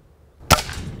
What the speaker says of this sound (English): Do you want to practice standing and shooting with your Springer?